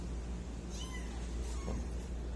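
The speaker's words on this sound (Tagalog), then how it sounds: "Mga kuting." Kittens give a couple of thin, high meows, one after another, fairly faint over a constant low rumble with no one talking.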